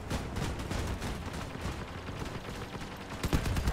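Dense, sustained machine gun fire from vehicle combat in the Crossout video game, a continuous rattle of rapid shots with a few heavier bursts near the end, loud and with no talking.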